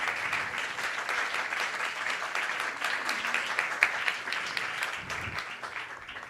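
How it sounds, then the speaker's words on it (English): Steady audience applause, many hands clapping continuously at a fairly even level throughout, with a few sharper claps standing out. "Let's give her a round of applause."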